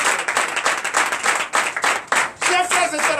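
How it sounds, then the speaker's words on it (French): Congregation applauding during a Sunday church service of teaching and worship, steady dense clapping throughout with some voices mixed in and a brief dip partway. "Donc je vous demande d'applaudir très fort."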